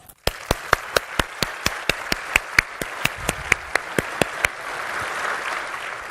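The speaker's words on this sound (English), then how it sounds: "please give yourself a round of applause." Audience at the ISWA World Congress and WASTECON 2017 opening ceremony claps: sharp, evenly spaced claps in a quick rhythm, then a softer, broader wash of crowd applause takes over near the end.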